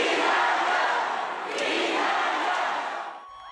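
A large crowd of supporters cheers and shouts in the Incheon Airport arrival hall, a loud, continuous roar of voices that swells, dips slightly, then drops off at the end.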